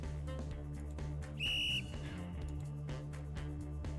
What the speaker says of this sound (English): With a violently loud blow of his whistle